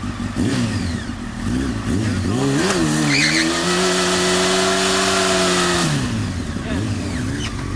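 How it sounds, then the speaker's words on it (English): A motorcycle does a burnout with its rear tire spinning, the engine revving hard and wavering in pitch, close and loud with tire scrubbing noise, while people talk over it. "That's why your tire's just sliding."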